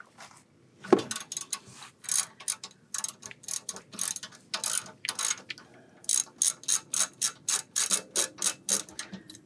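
An 18mm ratchet loosens the bottom rear shock bolt on a BMW E46, clicking in quick, rhythmic bursts of sharp metallic ticks, close and clear with short pauses between strokes.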